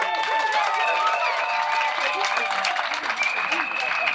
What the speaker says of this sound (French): On applaudit vivement.